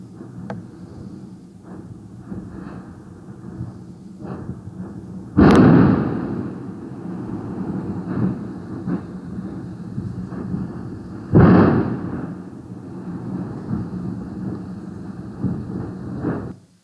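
The active Yasur volcano in Vanuatu erupts with two loud, booming blasts about six seconds apart, each rolling off into a deep rumble over a constant low roar of volcanic activity.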